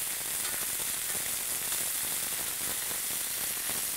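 Venison searing in a very hot pan, a steady broadband sizzle with crackling pops running continuously throughout, close and alone with no talking.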